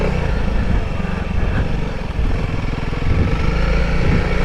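A Honda CRF300L motorcycle engine while riding, a throaty low thumping rumble that pulses unevenly as the throttle is worked, close and fairly loud with no talk.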